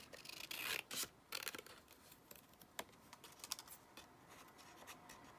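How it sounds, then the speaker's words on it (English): Paper being cut down for a holiday folio gives a quiet run of scraping, rasping strokes with short crisp snips, close and alone. "I'm just going to cut this down."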